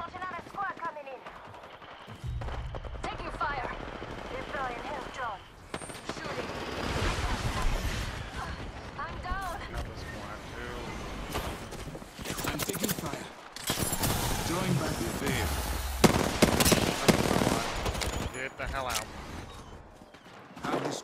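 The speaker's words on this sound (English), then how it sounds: "I'm getting shot at" Heavy automatic gunfire from Apex Legends battle royale play, long rapid bursts and scattered single shots crackling loud and near for much of the stretch, with a voice speaking over parts of it.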